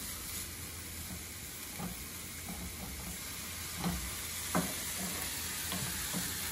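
Meat and soy sauce sizzle steadily in a hot pan, a constant hiss with intermittent scraping clicks as the mixture is stirred, no talking.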